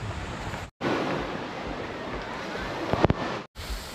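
Strong sea waves wash and surge with gusting wind during a boat race at a fiesta in Romblon, a steady broadband rush broken by brief gaps, with a few faint voices nearby.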